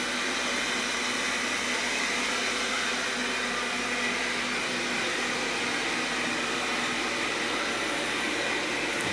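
A Proscenic M8 Pro robot vacuum cleaner running its cleaning cycle gives off a steady, loud whirring hum of motor and airflow, unbroken for several seconds with no voices.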